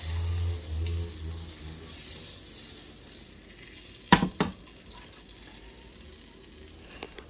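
Butter sizzles in a hot pan for a big batch of wild mushrooms, a steady soft frying hiss broken near the middle by a couple of sharp utensil clanks against the pan, then settling into a quieter sizzle.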